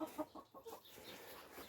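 Backyard chickens clucking softly nearby, a few short quick clucks at the start, then fainter scattered calls in a quiet garden.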